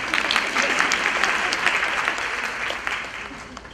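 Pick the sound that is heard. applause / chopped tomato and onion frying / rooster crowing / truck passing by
applause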